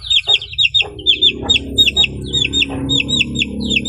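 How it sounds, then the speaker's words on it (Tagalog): A mother hen with two chicks: bright, rapid chick peeps repeat throughout, close and lively, over low, soft hen clucks. "Ito naman yung dalawang sisiw na back to mama natin."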